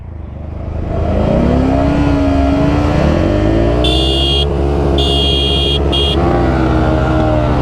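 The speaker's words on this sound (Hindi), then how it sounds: "चलो हॉर्न दे रहे।" An engine revs up and idles loudly while a horn beeps in a few short bursts, two longer honks followed by quick ones.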